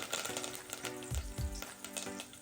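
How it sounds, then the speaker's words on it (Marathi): Curry leaves crackling in hot oil in a pan, a soft sizzle with a few sharp pops and light stirring knocks, heard close and fairly quiet. "पण तेल गरम झालं, आता याच्यामध्ये मी कढीपत्ता घालून घेते."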